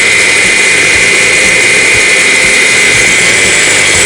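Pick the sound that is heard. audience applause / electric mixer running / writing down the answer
electric mixer running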